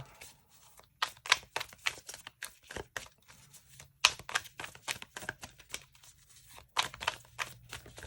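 Tarot cards being shuffled at close range during a Cancer 2023 tarot reading, giving a burst of quick crisp riffling and slapping clicks in an irregular rhythm, with no voice over it.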